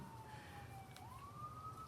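A single siren wails faintly in the distance as one sliding tone that dips and then rises, over a quiet background.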